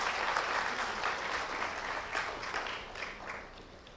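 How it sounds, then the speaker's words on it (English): Dense, sustained applause from an audience at an opening ceremony, loud at first and gradually tapering off. "Once again, a great round of applause."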